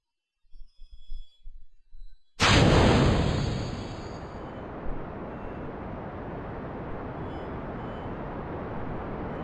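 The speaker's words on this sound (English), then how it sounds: "in order to get it off the ground at all, we have to use the solid rockets" Solid rocket boosters igniting in Kerbal Space Program, a sudden loud roaring blast after a few soft clicks, then a sustained rushing rumble that slowly fades but keeps going.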